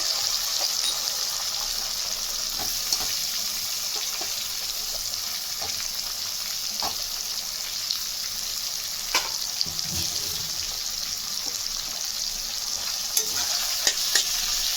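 Sliced onions fry in hot oil as the base for a prawn dopiyaza, giving a continuous close sizzle over about fifteen seconds, broken by occasional clinks and scrapes of stirring.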